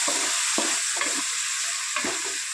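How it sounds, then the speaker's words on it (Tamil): Onion and tomato sauté with salt in oil for semiya biryani, a constant bright sizzle punctuated by several spoon-stirring scrapes at irregular intervals, close and with no talk. "வெங்காயம் நல்லா வதங்கி வரட்டும்"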